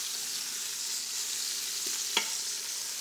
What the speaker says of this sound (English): this is really starting to sizzle now